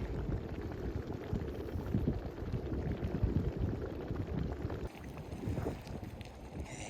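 A small off-trail thermal feature in Yellowstone National Park, about the size of a drinking cup, spews and bubbles water in a steady, close, rushing hiss, with light wind noise and no talking.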